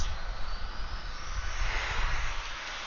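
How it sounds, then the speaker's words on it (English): A Southwest jet touches down at Atlanta airport with thrust reversers engaged, a broad, loud, sustained jet roar that swells slightly and then eases, heard from a distance. "So there's Southwest touching down."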